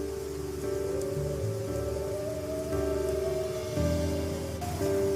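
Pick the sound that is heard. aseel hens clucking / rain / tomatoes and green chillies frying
rain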